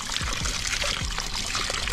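Cold spring water from a mountain spring in the Karor Valley hills pours and trickles into a glass, a steady close splashing stream under outdoor ambience with no talk.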